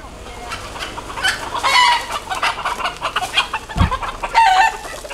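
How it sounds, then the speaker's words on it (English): Roosters squabble in Key West with agitated clucks and squawks, bursts of loud calls close by, and a sharp thump midway through the flurry. "That is the case of too many roosters and not enough hens."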